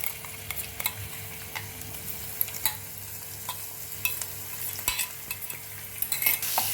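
Ginger-garlic paste spits and sizzles in a pan of hot oil, a dense close crackle broken by frequent light spatula taps and scrapes, with no voices.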